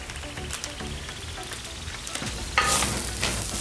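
Minced meat and onion fry in a pan with a close, crackling sizzle and several stirring scrapes, and the hiss swells louder partway through. No one speaks.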